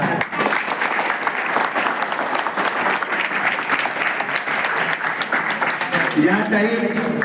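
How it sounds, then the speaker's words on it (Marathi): Audience applause at a school talk, a dense, steady roar of many hands clapping that stays loud throughout, with a brief voice breaking through near the end. "माझं भाषण आवडलं असेल तर जोरानं टाळ्या"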